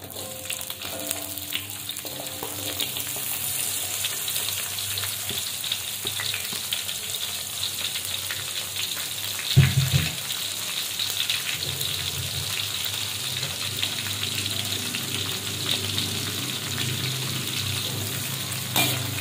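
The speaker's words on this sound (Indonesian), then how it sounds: "Jadi kita goreng dulu untuk cabenya dulu seperti itu" Chilies for sambal sizzle steadily in hot oil, a dense continuous crackle with occasional scrapes and clinks of stirring, including one louder knock of the utensil against the pan midway.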